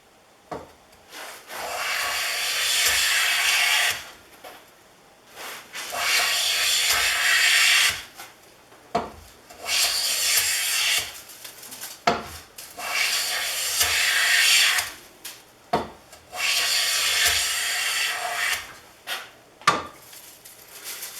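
Restored Millers Falls No. 11 hand plane shaving a pine 2x4 with a knot in the middle, five long, rasping swishes of the blade across the wood, each a few seconds with short pauses between, close and clear.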